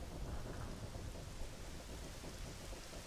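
Rain in Zelda: Ocarina of Time falling as a dense, continuous hiss with low rumbling like distant thunder, steady and alone with no voices.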